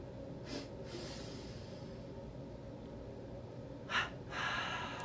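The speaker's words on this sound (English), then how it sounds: "Double breath in to stretch, create tension across the chest. Double breath out the mouth to release." Quick paired breaths drawn in and pushed out through the mouth during gentle morning yoga in bed, two short airy bursts early on and another pair near the end over steady room hiss, with no talking.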